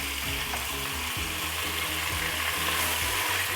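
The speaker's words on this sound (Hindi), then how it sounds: "इसको अच्छी तरह भून लेंगे ताकि गोश्त की स्मेल ख़त्म हो जाए।" Half a kilo of mutton frying in a pot, loud continuous sizzling with low bubbling and repeated scraping stirs, close and unbroken.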